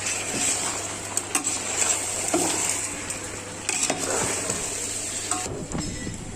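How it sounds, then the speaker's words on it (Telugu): Chicken pieces with salt and turmeric being stirred in a pan, a low steady sizzle broken by scattered spoon scrapes and knocks against the pan, near and without talk. "ఉప్పు పసుపు వేసుకొని చికెన్ అంతా ఈ విధంగా కలుపుకోవాలి"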